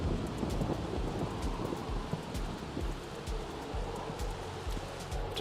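Steady rain falls in a Sims 3 game scene, a dense, continuous hiss with low rumbling that stays even throughout, heard alone without talk.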